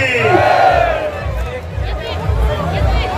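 A large crowd roars and cheers at an outdoor political public rally in a village in Haryana, India. The sound is a loud, dense wall of shouting voices that swells at the start and continues as steady crowd noise.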